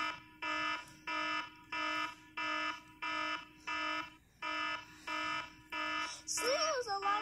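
An alarm clock beeps in a steady rhythm of about ten evenly spaced electronic tones, fairly loud and close, before a voice cuts in at the end.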